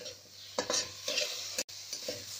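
Onion, tomato, green chili and ginger sautéing in a pan for coriander paneer, a soft continuous sizzle broken by several scraping stirs of a spatula, close but fairly quiet.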